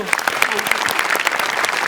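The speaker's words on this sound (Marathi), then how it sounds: "जोरदार टाळ्या." Loud, dense applause from an audience at a Marathi wedding-themed show performance, a steady crackle of many hands clapping at close range.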